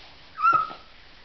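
A child imitates a barking dog with a single short, high yip, close and fairly loud, with no other talk in the moment.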